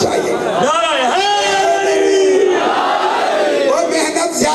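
A large crowd at a Muharram majlis shouts a slogan in unison, loud rising and falling chants of many voices filling the space with no pause.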